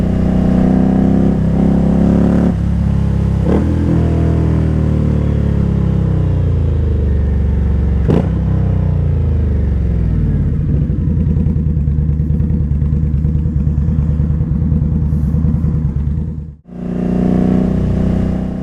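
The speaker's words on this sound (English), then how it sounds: "It's the Indian Scout." An Indian Scout motorcycle engine revs loudly and close, rising and falling in pitch through several long pulls, with a brief cut near the end before it picks up again.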